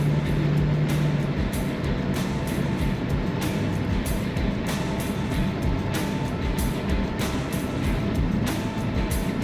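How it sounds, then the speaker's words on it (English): A 1966 Ford Mustang coupe with an automatic transmission drives along, its engine droning steadily under broad road and wind noise as the gearbox kicks down, with no clear change in loudness. "Kick down working on the automatic transmission."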